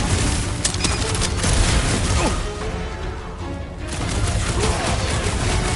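Dense, continuous battle noise from big guns in a video game, heavy, unbroken and loud throughout, with booms and crashes blended in.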